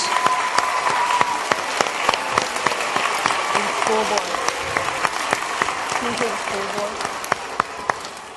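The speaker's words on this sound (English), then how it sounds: "give a big round of applause for the people who are here at the front and your teachers" An audience at an RCMP WITS program launch in the Annapolis Valley applauds the people at the front and their teachers, with dense, sustained clapping from a large group, crisp nearby claps scattered through it and faint voices underneath.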